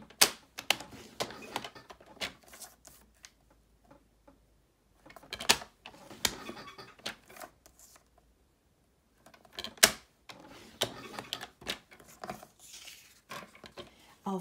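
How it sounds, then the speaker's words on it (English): A scoring blade is drawn along paper lined up against a half-inch mark to crease the sides of a gift box, giving sharp ticks and clicks in short bursts with quiet gaps between them. "with your scoring blade in place, I'm going to go ahead and line up the right side of my paper with the 1/2 inch mark, and I'll score all the way around"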